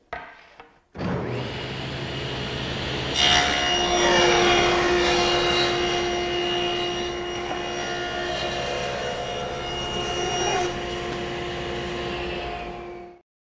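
A power saw rips 2 1/8 inch wide wood slats for a Mission style bed, a loud sustained whine with a steady tone that runs about twelve seconds before winding down.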